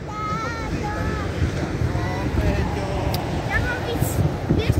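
Autumn sea on the shore in Poland, with a constant roar of waves and wind buffeting the microphone, close and loud, while voices can be heard faintly in the background.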